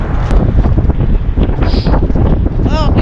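Strong wind buffets the microphone during a Chicago snowstorm, a loud continuous roar and rumble close by, with people talking faintly under it.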